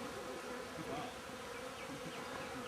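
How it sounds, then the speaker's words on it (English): Bees swarm around a wild honey collector in rural China, a steady dense buzzing close by with no voices over it. "There's bees all around me too while I'm shooting this."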